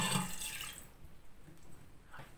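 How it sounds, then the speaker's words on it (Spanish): About half a glass of water is poured into a burnt cooking pot, a short splashing gush at first that fades to faint trickling and drips. "Y ahora vamos a poner medio vaso de agua."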